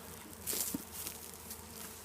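A steady hum of many honeybees buzzing close by at a newly installed hive box, with a few louder individual passes and soft rustling, no voices.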